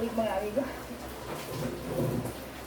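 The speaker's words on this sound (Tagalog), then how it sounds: "Yan, dumadagundong, malakas ang ulan." Low rumbling thunder rolls beneath steady heavy rain, with a voice talking faintly over the storm.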